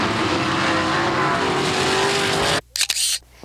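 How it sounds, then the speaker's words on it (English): Big-time sprint cars roar loudly around a dirt track at Kankakee, a dense continuous engine drone that cuts off abruptly near the end, followed by a few brief clicks. "These are all real big-time sprint cars, folks."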